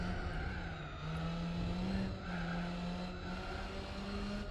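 A race car engine in Gran Turismo 4 revs hard and steadily, its pitch dipping briefly around a gear change before climbing again, loud and close throughout.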